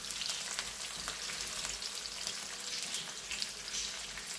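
Onion frying in a pan for palak paneer, a faint continuous crackling sizzle with light bubbling, heard close with no speech.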